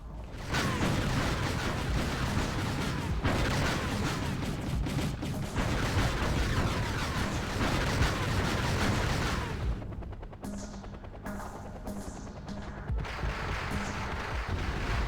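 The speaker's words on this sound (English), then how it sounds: "Flak Panzer getting ready to engage that Mi-24. They'll begin to target any second now as they do, and here comes the fire." Anti-aircraft fire from a Flak Panzer at an Mi-24 helicopter in the Wargame video game: dense, continuous rapid gunfire bursts, loud and close, easing into sparser shots and mechanical noise near the end.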